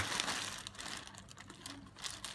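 A plastic grab bag of squishies being cut open, with close, quiet crinkling and rustling of plastic in irregular bursts and no talking.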